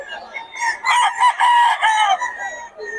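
A young gamecock stag crows once at a rooster market in Bocaue, a close, loud, drawn-out call with a rising start and falling end, followed by faint clucking.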